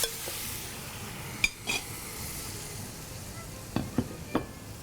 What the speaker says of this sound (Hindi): इसको हम पहले फ्राई करेंगे